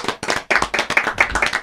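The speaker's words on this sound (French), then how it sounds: "Et il faut l'applaudir comme il se doit." An audience clapping at a live comedy show in a close, loud run of sharp, fairly regular claps with no voices.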